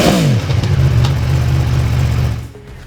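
An Aprilia Tuono V4 1100 Factory motorcycle engine revs hard and close, its pitch sweeping through a sharp throttle blip before holding a steady, loud roar that fades away at the end.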